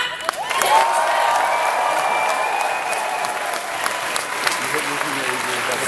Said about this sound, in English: So huge, huge, huge round of applause, yeah?